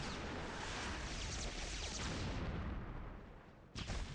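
A dense, continuous roar of explosions and bursts fills the Epic Seven battle at high intensity with no pauses, then cuts off briefly before another burst begins.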